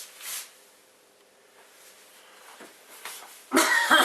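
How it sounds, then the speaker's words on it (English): Dry, hacking coughs in a workshop: a short cough near the start, then a louder, harsher cough close up near the end, with quiet between. "It's one of those dry coughs that got nothing behind it"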